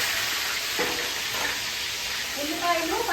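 Onion paste sizzles steadily in hot oil for a fish curry after fenugreek seeds have been fried, with a few stirring scrapes; close and continuous.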